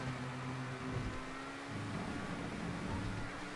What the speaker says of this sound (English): Listen to that engine note management and all that sort of stuff.